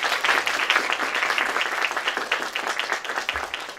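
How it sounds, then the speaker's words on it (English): An audience applauds Controller Betty Yee at a Golden Gate University event in San Francisco, a dense, lively round of clapping that fills the room and holds steady throughout. "Please give a warm round of applause to Controller Betty Yee."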